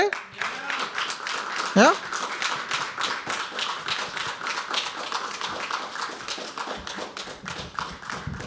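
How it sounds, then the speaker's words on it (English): An audience at a live poetry open mic applauds a first-time performer, with a dense, steady stretch of close hand claps and a voice briefly heard over it. "Can we start clapping for Sanjay?"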